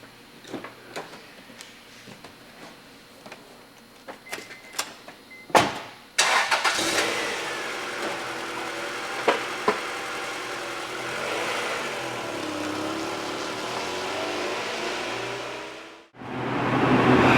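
A 2001 Acura Integra Type R, with much of its sound deadening removed, goes through a few clicks and ticks before its engine cranks and catches. It then settles into a steady, close idle with a brief blip and a sudden cut near the end.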